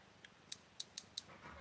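Drag clicker inside an AliExpress BFS baitcasting reel, spring-loaded and being fitted with an aluminum star drag: four crisp, sharp clicks at irregular intervals, close and fairly quiet, preceded by a couple of softer ticks.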